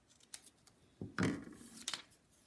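Scissors snip paper into a square for a pinwheel in a few faint, close cuts, the strongest and longest slice landing in the middle.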